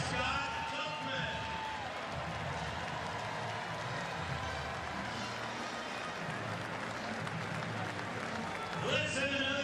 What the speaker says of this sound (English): Let's have another round of applause for our families